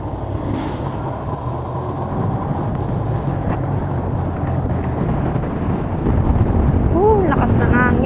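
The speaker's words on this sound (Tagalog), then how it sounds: "Lakas ng hangin." Strong wind buffets the microphone in a steady, heavy rumble that grows louder toward the end, with a voice briefly audible in the gusts.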